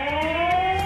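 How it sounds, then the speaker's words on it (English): A Bosma Sentry doorbell theft alarm blares a piercing, high-pitched 110-decibel electronic tone. It is steady and loud, with faint warbling pulses over a low background hum. "will be immediately warned with a high-pitch 110 decibel alarm"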